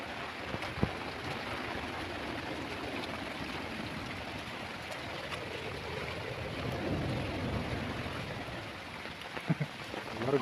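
Steady rain falling at Bekal Fort in Kasaragod, a soft continuous hiss with faint scattered drips and no talk.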